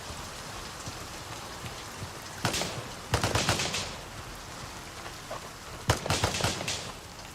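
Quick bursts of rapid automatic fire, a full magazine emptied at a target, ring out at moderate distance in the shooter Gray Zone Warfare, separated by quiet stretches of faint ambient noise.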